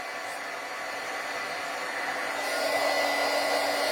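A heat gun blows a steady, loud whooshing roar throughout, growing slightly stronger near the end with no pauses or voices.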